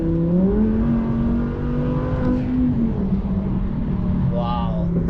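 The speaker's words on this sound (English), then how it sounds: "You can hear the turbos." Cabin sound of an Acura NSX twin-turbo: a smooth engine and exhaust drone with steady rising and settling tonal whine, heard from inside with no talk over it.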